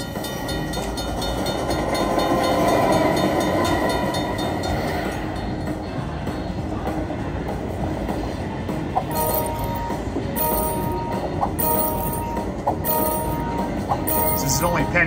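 Luxury Line slot machine train effect: a continuous rumbling, clattering rail-like sound fills the clip at high level, with chiming and clinking slot tones layered in toward the end.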